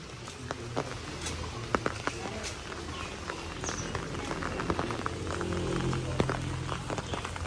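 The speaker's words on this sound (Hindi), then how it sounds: "जब इनके ऊपर बारिश पड़ती है ना तो क्या बात है।" Rain falls on plants in a village, a steady soft patter of drops with scattered sharper taps, fairly quiet and continuous throughout.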